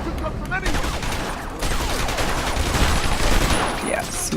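Rapid sniper gunfire and shooting action from the Batman: Arkham Asylum video game, loud and continuous throughout with dense overlapping game sound effects.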